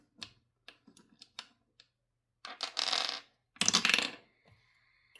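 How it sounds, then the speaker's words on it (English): Three 20-sided dice are rolled. A few light clicks are followed by two bursts of hard clattering as the dice tumble and settle, close and distinct in a quiet room. "we're rolling our 20-sided dice"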